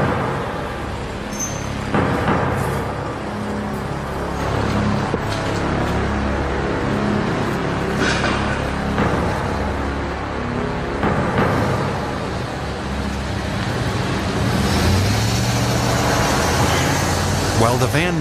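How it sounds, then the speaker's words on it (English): Cars pass by on the road outside, a continuous traffic rumble that swells and fades as vehicles go by, heard under ongoing talk. "A lot of cars going by"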